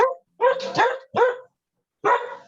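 A dog barks near and loud in four short bursts with brief gaps between them.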